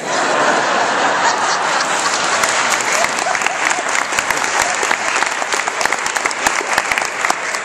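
An audience at a debate gives loud, sustained applause, with dense, close clapping throughout and a few chuckles mixed in.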